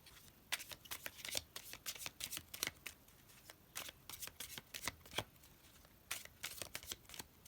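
Tarot cards being shuffled close by, quick irregular bursts of riffling and slapping card edges with short pauses between handfuls.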